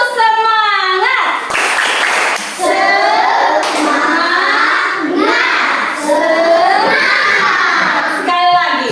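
Children in a classroom doing a rhythmic spirit clap chant, with bursts of hand claps mixed into loud, close, excited voices chanting and shouting together.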